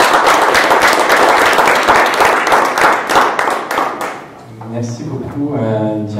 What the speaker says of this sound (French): veuillons applaudir chaleureusement M. Alain Deleu